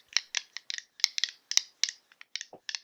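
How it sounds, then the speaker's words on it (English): Small dice clattering in a quick series of light, sharp clicks and rattles, close up and fairly quiet, with no one talking. "Here's some ASMR dice, if you can hear it."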